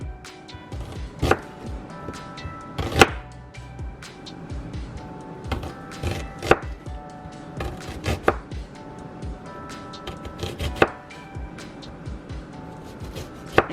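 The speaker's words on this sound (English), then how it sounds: "So we just cutting our onion." An onion is chopped with a knife on a board, giving irregular, close, crisp thuds that repeat steadily for about fourteen seconds with small scraping sounds between the cuts.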